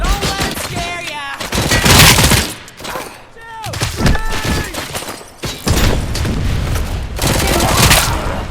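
Gunfire in the RoboCop: Rogue City video game erupts in loud bursts and heavy booming shots, mixed with shouting voices and other combat noise throughout.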